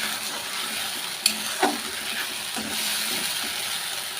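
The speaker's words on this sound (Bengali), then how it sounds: "মশলাটাকে আমি ভালো করে ভেজে নেব" Onion, ginger-garlic, tomato and whole garam masala spice paste fries for a Bengali chicken curry, a steady close sizzle broken by a couple of sharp spatula clinks and scrapes, with no voices.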